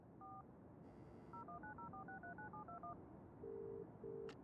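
A telephone is dialed in the video game Broken Sword: The Sleeping Dragon: a quick run of about a dozen clear touch-tone beeps, followed by two longer ringing tones, heard cleanly over a low background hum.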